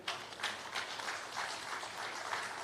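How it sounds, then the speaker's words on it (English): Applause from a seated audience at a real estate association's foundation day event, a steady wash of many hands clapping throughout, fairly distant and even in level. "It's a round of applause for him."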